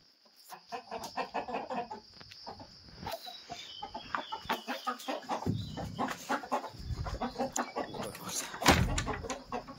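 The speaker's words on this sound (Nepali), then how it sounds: "त्यसैले म चाहिँ यहाँ भाले रोज्दैछु।" Village flock of roosters and hens in Nepal clucking and murmuring close by in a rapid, uneven series, with a few louder squawks and scratching noises mixed in.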